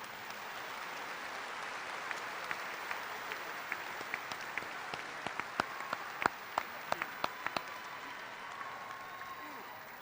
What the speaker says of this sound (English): Ladies and gentlemen, a round of applause for our podium guests.